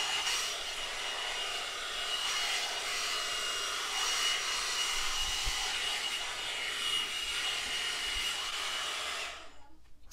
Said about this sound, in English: it is straightening as I am blow drying. I'm going to go on high and do this bottom section real fast